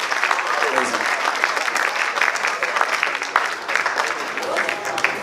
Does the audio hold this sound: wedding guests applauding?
yes